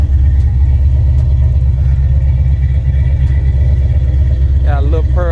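A 1987 Monte Carlo SS rumbles steadily as it backs out of a driveway, a loud low engine drone throughout, with a brief voice near the end.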